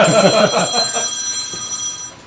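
A phone rings loudly and close with a bright electronic trill, cut off after about two seconds as it is silenced, before anyone answers.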